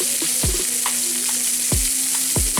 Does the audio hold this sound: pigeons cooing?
no